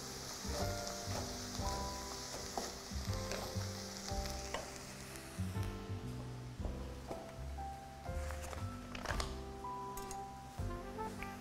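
Butter melts and sizzles in a pan, a steady crackling hiss under music playing throughout.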